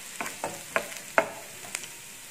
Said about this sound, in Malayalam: ഇതിലോട്ട് നമ്മൾക്ക് ഇഞ്ചി ഇട്ട് കൊടുക്കാം, വെളുത്തുള്ളി ഇട്ട് കൊടുക്കാം, അതിലോട്ട് ഉള്ളി വലിയ ഇല വരുന്നുണ്ട്.